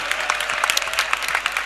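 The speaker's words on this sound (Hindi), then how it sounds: "तालियां बजाइए," Audience at a fair gathering clapping steadily, dense crackling applause close by with a faint voice underneath.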